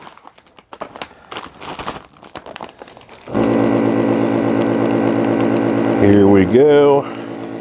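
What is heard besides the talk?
vacuum sealer sealing homemade MRE meal bag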